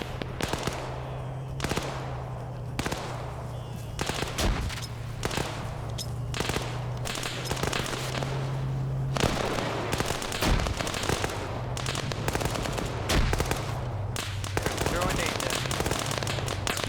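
Video game combat rattles with repeated sharp gunshot bursts and grenade blasts going off back and forth, loud and irregular, over a steady low hum.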